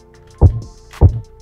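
A synthesized kick drum made from a mini bongo struck with a pencil and heavily processed with plugins lands two punchy, deep thumps about half a second apart over a quiet background.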